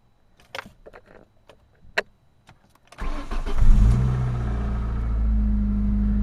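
A Ford Escort engine rumbles loudly from cabin level while driving, rising out of a few faint clicks and knocks into a steady, droning run with a noticeable whine.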